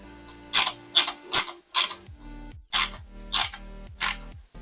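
A screwdriver drives small screws to fix NOS canisters onto a Fast and Furious Toyota Supra MK4 scale model, making seven close, sharp ratcheting bursts in an uneven rhythm with short pauses and no talk.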